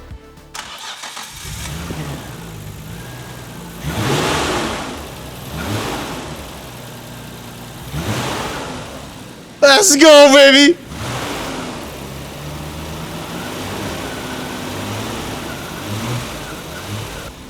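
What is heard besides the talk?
Nissan GT-R 400R car engine revving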